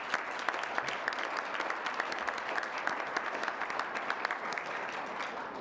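Audience applause at a university announcement of a new president, a steady dense clapping from a sizable crowd in a hall, sustained evenly throughout with no voices standing out.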